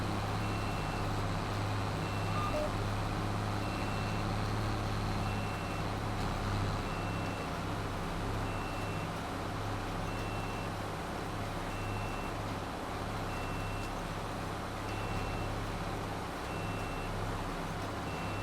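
Steady warning beeps from farm machinery in Farming Simulator 22, repeating evenly at a moderate level over a constant low engine and vehicle drone for the whole stretch.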